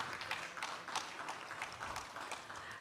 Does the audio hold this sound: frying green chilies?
no